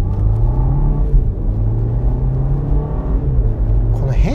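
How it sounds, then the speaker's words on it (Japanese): A BMW X2 with an 8-speed automatic accelerates with a steady, close engine drone and a low rumble, pitch rising and easing as gears change smoothly. A voice talks over it throughout. "BMW らしいエンジンのいい音が聞こえてくるなというフィーリングがありますね。"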